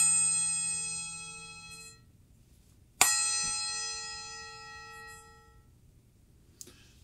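A small gong struck with a mallet gives a bright shimmering ring that is cut short by damping, then struck again with a sharp clang and left to fade before being stopped, ending with a light touch.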